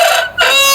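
A Chinese-breed hen lets out loud, close, drawn-out clucking calls, two strained vocal bursts split by a brief pause.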